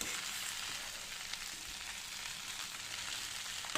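Tomato rice stirred in a pan over a high flame gives a steady, even sizzle with soft scraping from the stirring, close and continuous, with no talking.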